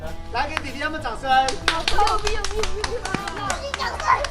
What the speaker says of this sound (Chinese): 来，给弟弟他们掌声！